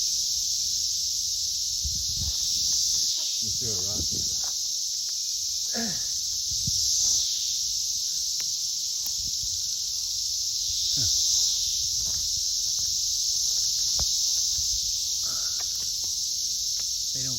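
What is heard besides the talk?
cicadas buzzing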